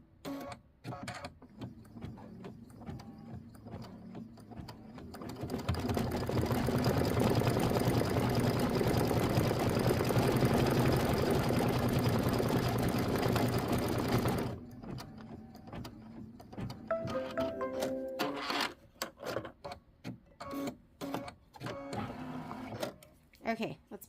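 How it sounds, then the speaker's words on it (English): An embroidery sewing machine stitches a big, chunky satin stitch in white thread on a quilt block, a steady loud mechanical whir running for about nine seconds mid-clip, with quieter handling clicks and knocks before and after. "This is going to be 4 minutes of stitching because it's going to be doing a nice big chunky satin stitch."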